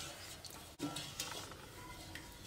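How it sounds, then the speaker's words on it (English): Sugar is stirred into a pot to dissolve it while making homemade golden syrup, giving faint soft scraping and clinks of a spoon against the pot, quiet and close, without talk. "I'm just going to stir this in until it's dissolved."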